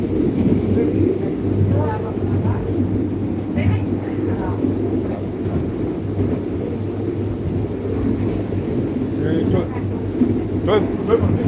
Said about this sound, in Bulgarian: Той върви много бързо това влак.